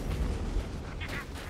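A bomb explodes in Warhammer Vermintide as a deep, rumbling boom that fills the whole short moment and fades slightly toward the end.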